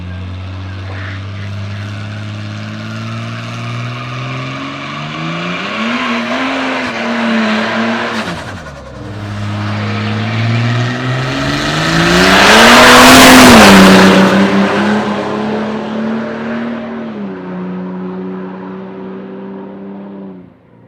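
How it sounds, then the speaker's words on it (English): Drag race cars on a strip roar loudly, engines climbing through gear changes with falling pitch at each shift; one car swells close and passes near the middle before the sound settles into a steady drone. "A couple of cars are already starting to go down the track"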